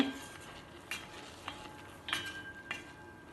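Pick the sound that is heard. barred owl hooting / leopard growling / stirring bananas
stirring bananas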